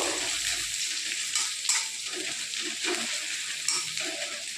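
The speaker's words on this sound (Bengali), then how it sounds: "পেঁয়াজটা বেশি ভাজার দরকার নেই, হালকা একটু নেড়ে চেড়ে নিয়েই" Onions sizzle softly in a pan while being stirred for a leftover-rice fried rice, a moderate hiss with occasional scraping clicks of the spatula, no speech.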